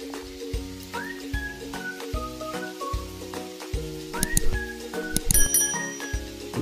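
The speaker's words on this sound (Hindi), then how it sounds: "देखिए कितना मस्त फ्राई हो रहा है मछली।" Fish frying in a pan with a steady sizzle and crackling spatter, heard close up under loud, repeating tonal background music.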